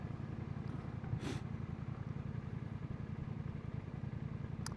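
Low, steady rumble of a Kawasaki motorcycle engine on a countryside road, fairly faint and distant, holding an even drone throughout with a brief higher hiss partway through.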